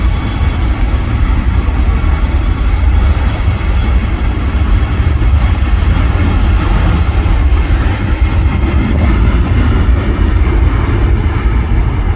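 Aircraft at Manchester Airport, a loud continuous low engine roar that holds steady for the whole stretch, close and unbroken, with no voices.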